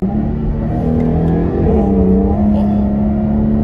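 A Jaguar F-Type with a V6 engine drives and accelerates, its loud engine note heard from inside the car, droning steadily, then rising in pitch as it pulls through the gear.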